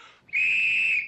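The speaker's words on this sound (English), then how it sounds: "when you hear me blow this whistle" A drill sergeant blows a whistle once: a single shrill, sustained blast lasting under a second, loud and close, with nothing else heard.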